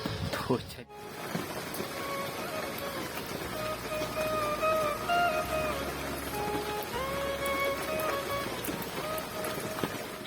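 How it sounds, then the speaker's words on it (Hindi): Steady rain patters continuously in the background while someone talks over it. "वो बारिश अभी भी कम होने का नाम नहीं ले रही है"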